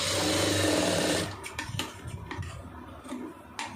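A sewing machine stitches a blouse armhole in a steady, loud, close whir that runs for just over a second and then stops, followed by faint handling knocks and rustles.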